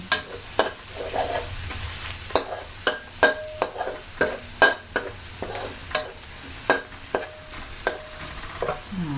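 Garlic and minced pork stir-fried in hot oil in a pan for a bean sprout and fried tofu dish, a steady close sizzle broken by repeated sharp scrapes and clacks of a spatula stirring at an irregular beat.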